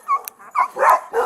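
A dog outside a house gives a quick series of short barks and whining whimpers, close and loud, separated by brief pauses.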